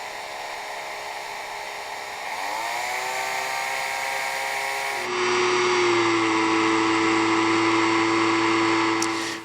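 A spot drill boring a 2mm pilot hole into a broken motorcycle frame bolt, a steady whining motor that rises in pitch, then jumps to a louder, higher sustained tone before stopping abruptly.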